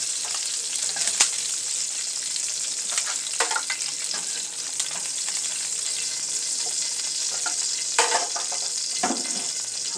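Turkey wings sear in a hot pan with a steady, loud sizzle throughout, broken by a few sharper crackles and pops near the start and toward the end.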